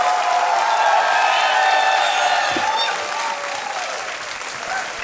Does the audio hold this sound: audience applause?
yes